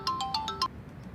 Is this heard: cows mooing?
no